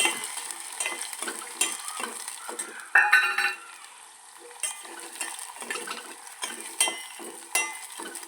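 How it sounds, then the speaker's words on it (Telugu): Chutney sizzles as it fries in hot oil, with repeated scraping and stirring strokes of a spoon against the pan at an even pace. Close and fairly quiet, no voices. "నూనె వీటెక్కింది పట్టు మనం పచ్చడిలు వేద్దాం."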